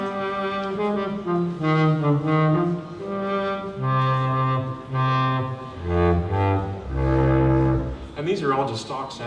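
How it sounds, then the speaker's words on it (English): A stock saxophone patch from Logic Pro X played on a LinnStrument: a sustained, reedy melodic line of held notes sliding between pitches, loud and alone, with swelling phrases and a higher run at the end. "Or here's a sax sound."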